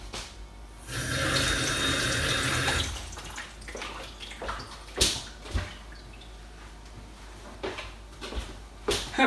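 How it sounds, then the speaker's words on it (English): Hands washed under a running kitchen tap, with a steady gush of water for a few seconds and then wet splashes, rubbing and drips as the flow eases. "Gonna quickly give my hands a wash."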